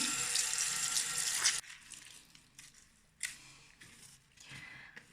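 Running water splashes loudly from a tap for a moment, then stops, followed by softer wet rubbing and scrunching sounds of fabric being rinsed of a blood stain.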